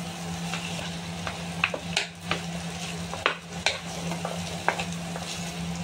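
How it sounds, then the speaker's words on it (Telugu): Hand-crushed potatoes are stirred into samosa masala in a hot pan, with a spoon scraping and knocking against the pan in irregular strokes over a steady, close sizzle. "ఈ బంగాళాదుంపలను వేసి బాగా మిక్స్ అయ్యేట్లు కలుపుకోవాలి ఫ్రెండ్స్"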